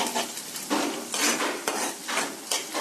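Onions fry in a pan with a broad, steady sizzle, broken by a few bursts of stirring as a utensil scrapes and clinks against the pan, close and fairly loud, with no voices.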